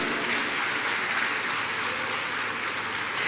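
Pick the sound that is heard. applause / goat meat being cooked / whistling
applause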